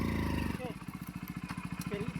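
An off-road motorcycle engine chugs in a steady rapid pulsing rhythm at close range, rising briefly near the start, while someone talks over it.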